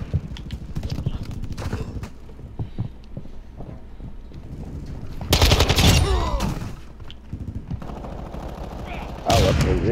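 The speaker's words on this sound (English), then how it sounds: "Start shooting" Gunfire from Call of Duty Modern Warfare 2 comes in loud bursts of rapid shots mixed with game noise, with chaotic action throughout and players talking over it.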